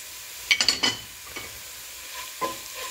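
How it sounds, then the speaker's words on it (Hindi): Spices for an eggplant curry go into hot oil with fried cumin, a soft sizzle joined by quick clinks and scrapes of a spoon stirring the pan, close and alone. "अब मैं इसमें डालूंगी स्पाइसेस, मसाले इसमें ऐड करेंगे"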